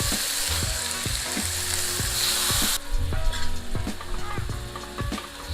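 Ground beef sizzling and frying in a pan for a cottage pie, a steady loud crackle with repeated scrape-and-tap stirring strokes, no talk.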